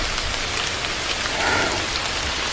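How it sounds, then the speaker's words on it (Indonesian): Heavy rain pours down in a dense, constant hiss of drops hitting surfaces, steady and close for the whole stretch with no voices. "Hujan turun sangat lebat"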